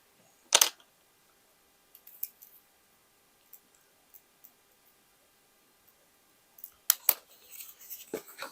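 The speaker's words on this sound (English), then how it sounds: "Here I have to cut it a little bit, yeah, and again the middle." Scissors cut leather for a boho shoulder bag with a few sharp snips. A loud closing snap comes early, sparse small clicks follow, and a second burst of cutting arrives near the end in a quiet room.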